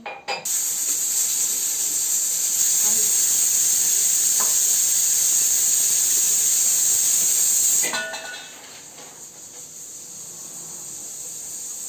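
Water hits a hot pan with a loud burst of sizzling steam that hisses steadily for several seconds, then drops sharply to a softer, quieter simmer.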